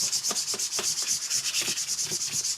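A Magic: The Gathering card rubbed back and forth across a custom YourPlaymat playmat, giving rhythmic soft scratchy strokes about four per second, close and clear, with no talking.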